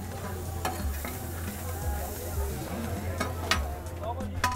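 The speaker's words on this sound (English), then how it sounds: "The chef smacks down those puffy buns directly into the pool of butter." Pav bhaji buns frying in a pool of butter on a street food griddle at a Punjabi night market in Amritsar, a steady close sizzle with a few sharp spatula clicks and a low hum of background noise.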